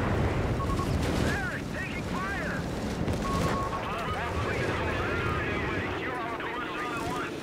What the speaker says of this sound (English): M1 is being obliterated by the